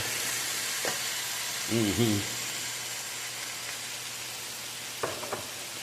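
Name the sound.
spinach and bell pepper sautéing in a pan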